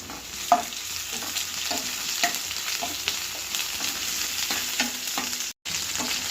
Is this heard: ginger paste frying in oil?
yes